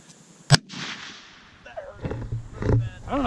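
.308 rifle gunshots ring out at a shooting range: one sharp, loud crack early on, followed by a fainter report, while people talk nearby.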